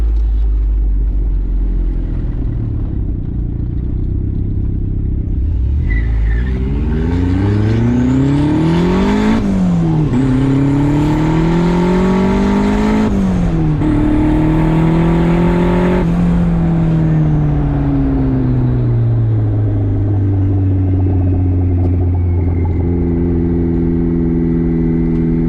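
A turbocharged Mazda Miata accelerates hard and loud, its engine note climbing through several gears in rising sweeps with brief dips at each shift, then settling into a steady cruise, with no talking.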